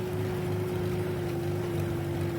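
An old tractor engine runs at a steady, loud drone with a constant hum while raking hay on a farm, unbroken and without talk.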